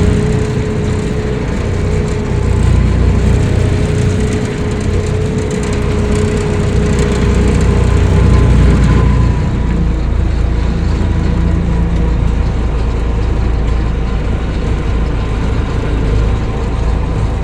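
A combine harvester's loud heavy engine roars continuously up close while driving through mud, rumbling and straining with a steady low drone throughout, no talking.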